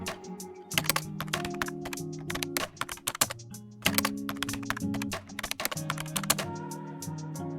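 Commands typed on a computer keyboard into an administrator PowerShell window, heard as close, brisk runs of clicking keystrokes in bursts with short pauses between them.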